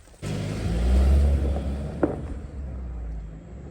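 A car engine starts abruptly and settles into a steady low rumble as the vehicle pulls away, with a short knock partway through and no talking.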